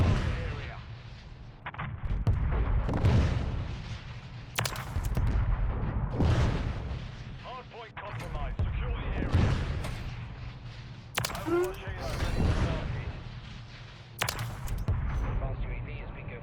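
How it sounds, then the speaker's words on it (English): A gunship killstreak in the MW3 video game fires missiles, giving repeated booming impacts and rumbling explosions at a moderate level under a steady background din, with a few sharp blasts spaced through. "It's like a gunship if it only fired missiles."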